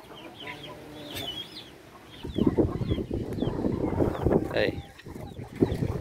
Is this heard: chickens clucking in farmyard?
yes